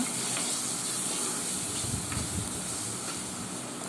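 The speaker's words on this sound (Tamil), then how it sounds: "இதெல்லாம் நல்லா வதக்கிக்கோங்க." Chili powder and coriander powder sizzle in hot oil in a pan for a fish curry, giving a steady, close hiss with faint stirring scrapes.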